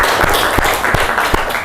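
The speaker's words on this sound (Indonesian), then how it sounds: "Beri tepuk tangan ke Risti." Classroom applause for a student: a few sharp hand claps land at a steady, even beat, close and moderately loud over a constant room hum.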